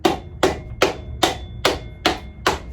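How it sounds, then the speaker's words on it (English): A soft-faced hammer strikes a Yamaha FJ1100 motorcycle's rear brake disc seven times at a steady rhythm, each blow a close, sharp metallic knock with a brief ringing tail, no talking. "Right, soft-faced hammer."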